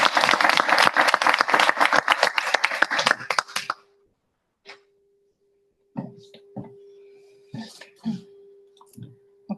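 Clapping from a board meeting audience, brisk and crowded for about four seconds before stopping abruptly, followed by quiet room noise and a few scattered knocks and shuffles.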